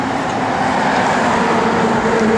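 A 1968 Plymouth Fury III Fastback engine running after a key start, a steady loud low rumble close by with no audible talk.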